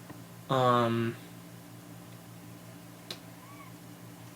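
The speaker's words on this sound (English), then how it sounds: "I thought I heard the cat meow from like one of the rooms or something" A single drawn-out cat meow, clear and harmonic, lasting about half a second amid quiet room tone, followed by a faint tick and a softer distant sound.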